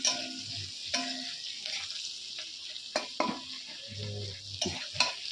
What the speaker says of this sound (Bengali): আলুগুলো দিয়ে দিয়েছি এখন ভালো ভাজা সিদ্ধ করা আলু